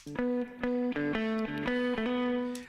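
Electric guitar plays short sustained notes and chords with a tight, compressed, slightly gritty tone from hard-knee compression, each note cut off cleanly before the next.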